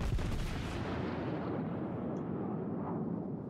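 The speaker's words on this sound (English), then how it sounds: "let's go ahead and put some rounds down on this guy" A warship's main guns fire in World of Warships, aboard the battleship Amagi: one deep, booming blast that rolls into a long, heavy rumble and slowly fades, loud and close, with no talking.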